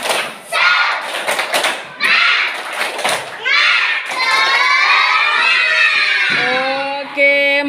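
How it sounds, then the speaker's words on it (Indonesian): Schoolchildren in a classroom doing a spirit clap chant: loud, close bursts of rhythmic clapping and shouted voices, then a drawn-out sung chant to finish. "Tepuk semangat."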